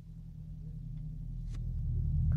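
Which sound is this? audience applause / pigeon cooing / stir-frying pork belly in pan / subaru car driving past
subaru car driving past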